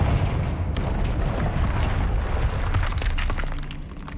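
A Confringo spell in Hogwarts Legacy bursts into a fiery explosion, a loud booming blast with crackling, shattering debris that rumbles on for several seconds before slowly fading.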